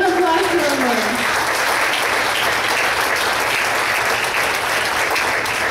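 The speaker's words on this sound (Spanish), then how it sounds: "Give an applause to the Lord." Church congregation applauding during a bilingual Spanish-English service, a dense, steady wash of clapping that carries through the whole stretch, with a voice briefly heard over the start.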